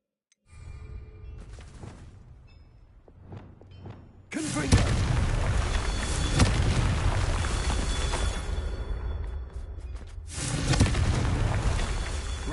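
A Confringo fire-blast spell in Hogwarts Legacy erupts into a loud, sustained booming roar, preceded by a few quieter thuds and whooshes, with the blast swelling and continuing densely for several seconds.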